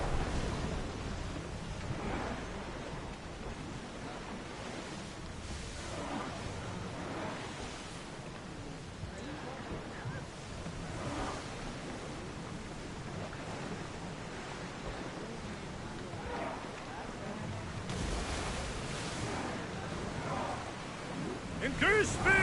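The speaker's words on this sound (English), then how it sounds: "There's a storm ahead." A stormy sea in Assassin's Creed Odyssey: steady broadband roar of waves and gusting wind, with surges that swell and fade throughout and no break in the noise.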